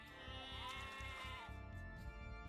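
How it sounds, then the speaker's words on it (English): Sheep bleat over and over inside a mill in Age of Empires, the bleats layered and steady, blended with low game ambience and no voices. "The sheep, they're in the mill, but they're still making the sheep sounds."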